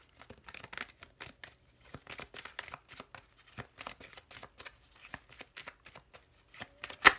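Small Lenormand oracle cards being shuffled close up, a quick irregular patter of soft riffling and flicking with a louder snap at the end, no talking.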